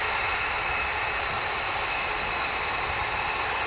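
F-22 fighter jets fly with a faint, steady distant hiss and roar, even and unbroken over a few seconds.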